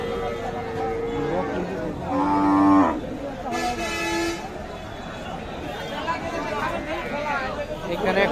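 Cattle moo at a busy village cow market, with a few loud, drawn-out calls rising over steady crowd chatter and nearby talking.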